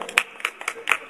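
A few sharp, close hand claps, four or five in about a second, welcoming a woman at a small gathering about religious matters.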